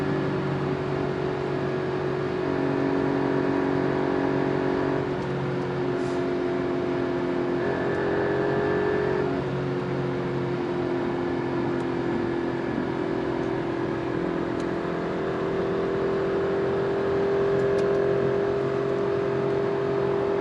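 An Alfa Romeo Giulia Quadrifoglio sports car engine in race mode drones steadily in a continuous, loud whir with rising tones, accelerating at speed on a highway.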